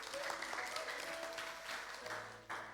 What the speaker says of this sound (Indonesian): Kasih tepuk tangan buat istri saya.